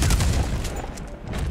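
A rapid burst of gunfire in the Red Dead Online video game, with dense overlapping shots forming a loud, continuous fusillade over a short stretch.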